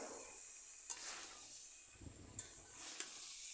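Cauliflower, flat beans and potatoes fry in a pan with very little spice, giving a steady soft sizzle and hiss broken by a few light scrapes of stirring, with no voices.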